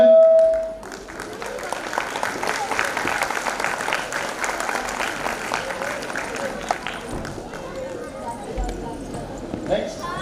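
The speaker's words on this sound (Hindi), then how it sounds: "प्लीज तालियां।" Audience clapping for a prize winner at an awards ceremony, starting right after a brief electronic tone and holding as a continuous crowd patter for about nine seconds before thinning toward the end.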